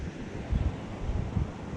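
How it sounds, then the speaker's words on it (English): Rushing water at the start of a waterfall makes a steady, broadband roar, with low gusty surges of wind buffeting the microphone. "we found this, the start of the waterfall"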